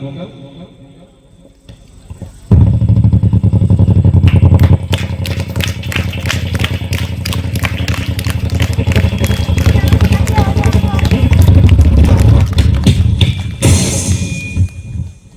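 A person imitates a Bullet motorcycle engine with the voice, a loud, rapid, pulsing thump that keeps up for over ten seconds before fading into a hiss, at an Onam comedy program.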